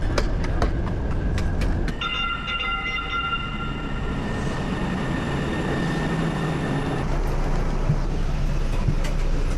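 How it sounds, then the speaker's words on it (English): Steady rumble of a moving train heard from inside a carriage, with continuous low-frequency rolling noise and a sustained tonal whine from the drive, no talking over it. "we're hopping back on the train to try and make it out to that fire lookout tonight"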